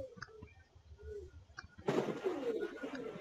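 Pigeons coo softly and repeatedly while being bathed, and a burst of water splashing and fluttering takes over partway through.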